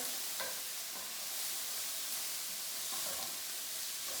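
Chopped onions sizzle in a hot pan for walnut-cauliflower tacos, with a steady frying hiss and a few soft scraping stirs of the utensil, close and moderately quiet, no voices.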